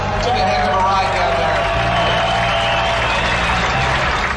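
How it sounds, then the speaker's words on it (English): Crowd applauding at a racetrack turn as injured driver Tim, hurt in a crash caused by a broken rear axle, walks down to turn 1; dense, steady clapping and cheering fills the clip with a voice talking over it. "Give him a big round of applause."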